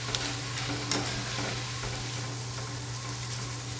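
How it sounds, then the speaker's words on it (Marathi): Steady hiss and crackle of flattened rice (poha) frying in hot oil in a wok for corn chivda, with light stirring clinks, continuous and close. "हे पोहे तळून घ्यायचे आहेत आपल्याला"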